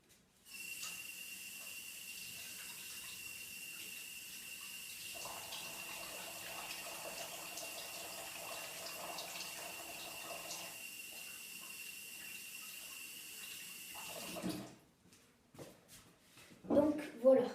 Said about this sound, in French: d'abord, je vais me laver les mains parce que ça colle.